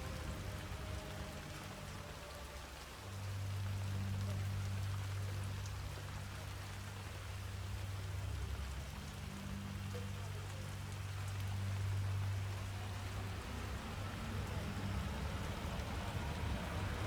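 Rain in the game Hitman 3, a steady dense hiss of falling water with a low rumbling drone that swells and fades, continuous and fairly loud with no voices.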